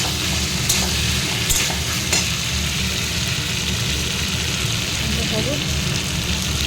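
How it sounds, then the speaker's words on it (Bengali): Pointed gourd frying in a pan, with a steady close sizzle and crackle and a few sharp scrapes of a utensil stirring the pieces near the start. "পটল ভাজাটা দিয়ে নেড়ে চেড়ে নিয়ে হলুদ লঙ্কা দিয়ে দেবো, দিয়ে ভালো করে কষাবো।"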